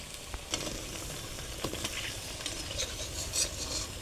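Pumpkin flower fritters frying in hot oil, a steady close sizzle with scattered crackles and a few sharp pops and stirring clicks, with no voices.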